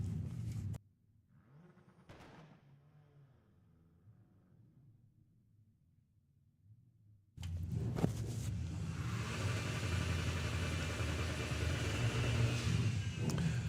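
Volkswagen Passat and Golf launching down a drag strip at a Sportsman Nationals meet: after a quiet stretch with faint engine hum, a loud sudden burst of revving engines roars in and holds to the end.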